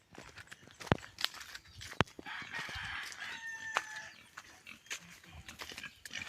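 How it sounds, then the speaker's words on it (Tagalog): Pigs grunt and squeal on a Filipino farm in a fairly quiet, distant scene, with sharp clicks and a rooster crowing briefly in the middle, while other chickens cluck faintly in the background. "nandito na tayo mga kayop sa baboy ni Imot"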